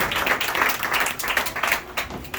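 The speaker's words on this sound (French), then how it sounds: "Applaudissez très fort s'il vous plaît" Loud, steady applause from a crowd at a school graduation ceremony, many hands clapping densely throughout with faint voices under it.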